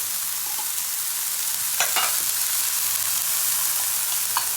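Sliced bitter gourd fries in a pan of oil with a steady close crackling sizzle, broken by two or three brief scraping stirs, and no one speaks.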